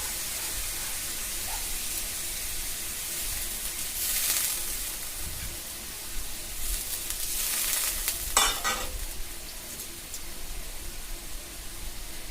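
Water is poured into a pan of frying vegetables, and a hissing sizzle swells in a few sharp bursts over the steady background frying crackle, with no voices.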